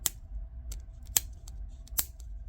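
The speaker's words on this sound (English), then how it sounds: "take your cutters and just snip that off" Side cutters snip small plastic nubs off the parts of an Ertl 2020 Chevrolet flatbed model truck, giving three sharp, close clicks spaced about a second apart over a quiet room hum.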